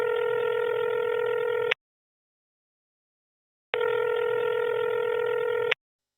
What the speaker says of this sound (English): why don't we actually get Rob on the phone?